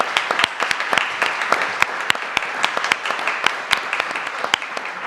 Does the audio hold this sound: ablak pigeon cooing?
no